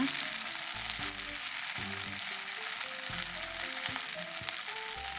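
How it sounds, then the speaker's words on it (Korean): Tofu and eggplant fry steadily in an oiled, preheated pan, a continuous close sizzle with faint crackles and no voices. "예열한 팬에 기름칠해주고 두부를 듬성듬성 올려주세요."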